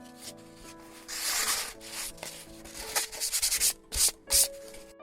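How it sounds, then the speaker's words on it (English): Sheets of gessoed paper from a painting pad rubbed with 220-grit sandpaper, a dry scratchy swishing in irregular close strokes, with short louder bursts toward the end. "After I've gessoed the pads, I like to give the sheets a quick sanding."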